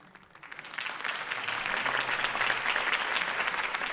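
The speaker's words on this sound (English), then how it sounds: "If only Mr. Wayne, my campaign's largest backer, could have heard that applause" Applause from a large crowd at a political campaign speech in Batman: The Telltale Series swells up after a quiet start and holds as sustained, dense clapping.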